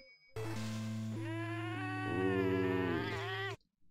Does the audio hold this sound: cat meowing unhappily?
yes